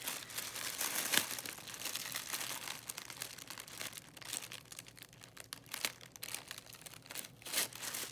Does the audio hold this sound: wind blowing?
no